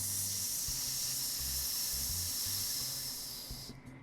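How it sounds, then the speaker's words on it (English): A snake gives a long, steady hiss, sharp and airy and fairly close, holding for several seconds before cutting off abruptly, with faint low rumbling beneath. "No, I think it's a snake."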